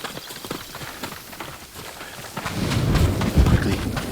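Horse hooves clip-clop on the ground in the samurai game Ghost of Tsushima, a fast rhythmic gallop growing louder and heavier toward the end, with no voices.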